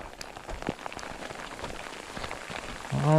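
Rain falling on a hiking trail in Montana, a continuous soft patter of drops on surfaces at moderate volume, with a short tonal sound near the end and no talking.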